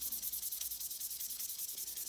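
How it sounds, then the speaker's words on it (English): Superglue finish on stabilized koa wood is hand sanded with 400-grit paper, a quiet, close, rhythmic rasp of quick back-and-forth strokes with no voices. "So I'm going to switch to 400 grit by hand."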